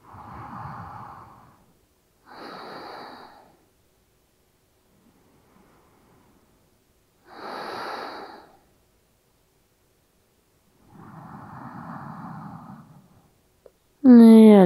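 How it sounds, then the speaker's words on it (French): Slow, deep yoga breaths during a Hatha yoga session in hot weather, heard as several long airy inhales and exhales separated by quiet pauses, close and soft, with a brief louder sound at the very end. "On va faire 3 respirations ici."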